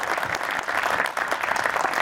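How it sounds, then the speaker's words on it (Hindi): An audience at a literature festival session of songs and storytelling applauds, a continuous wash of clapping with small pulsing swells throughout. "आप लोगों की तालियां बताएंगी कि ये सेशन कैसा चल रहा है"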